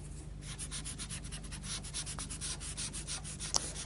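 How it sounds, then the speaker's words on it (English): White Derwent pastel pencil being rubbed and blended over paper, a soft, close, rhythmic scratching of repeated strokes with no talk. "I'm just going to rub the white over the top of most of that."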